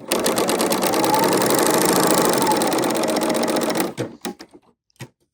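A serger stitches fringe with a wide 2-thread wrap stitch, a loud fast continuous whirring chatter for about four seconds, then stopping into a few sharp clicks.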